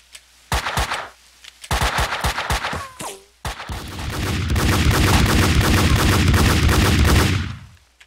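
Dual Desert Eagle pistols fire in the Max Payne 2 video game, first as two loud bursts of rapid shots and then as a longer, sustained volley that fades near the end.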